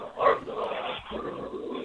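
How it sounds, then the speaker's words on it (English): A dog barks and yips in the background of a phone call-in line to a live talk show from Sacramento, heard as muffled, band-limited bursts mixed with a voice. "it sounds like you're being mauled by a dog over there"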